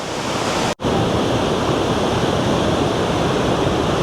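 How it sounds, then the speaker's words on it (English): Waterfalls at Krka National Park in Croatia, a loud, unbroken rush of falling water that fills the scene with a steady roar, cut by one very brief dropout near the start. "But the waterfalls is absolutely beautiful."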